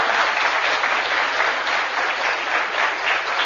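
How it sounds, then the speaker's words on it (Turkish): An audience applauds steadily, a dense, even wash of many hands clapping at moderate volume without pause. "Onun için kendi kendinizi bir alkışlayın."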